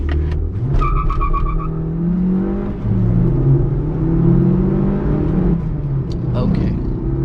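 A Suzuki Baleno pulls away in first gear, its engine revving up in a rising, rough hum heard from inside the cabin, steady and fairly loud, with a short spoken remark near the start.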